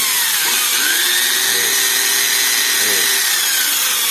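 An angle grinder cutting and reshaping a car's lower control arm to fit standard coilovers, a loud sustained high whine with shifting pitch as the disc bites into the metal, close and constant.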